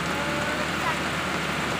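Heavy rain pours steadily onto a salak (snake fruit) garden during harvest, a dense, continuous hiss with no break, fairly close and uniform throughout.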